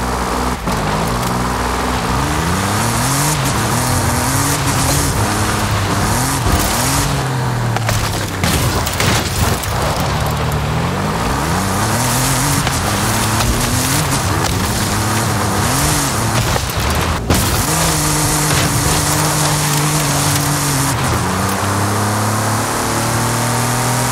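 A car with a 250 km/h top speed races in Forza Horizon 5, its engine droning loud and steady, pitch rising and falling through repeated gear changes for the whole stretch, with no talking.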